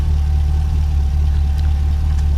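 A Plymouth rat rod engine idles steadily and smoothly at close range, its low rumble loud and even throughout with no voices over it.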